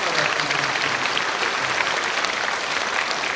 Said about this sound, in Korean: 일어나서 박수 한번 해주십시오